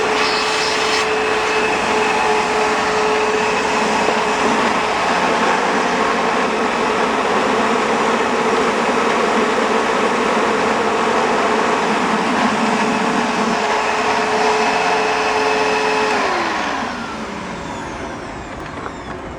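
A Kenmore Special Edition vacuum cleaner runs with a loud, steady whining roar and a constant high tone, then winds down near the end as it is switched off.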